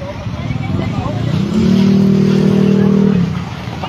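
A car drives through floodwater from the swollen Abuan River in Isabela, Philippines. Its engine climbs into a loud, sustained rev that holds for a couple of seconds and then drops away, with people's voices nearby.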